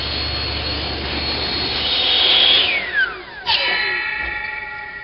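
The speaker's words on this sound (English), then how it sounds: "Now I'll switch to a saw blade and get 1 piece off of each side." A power saw blade cuts pieces off wood stock for dollhouse corner boards, a loud whining motor with a falling pitch as it slows, then a sharp pitch drop and a brief knock before the whine carries on, with no talking.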